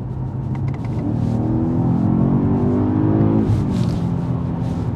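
A 625-horsepower BMW sedan accelerates hard in manual mode, its engine note climbing steadily through the revs with a shift near the end, loud and close throughout.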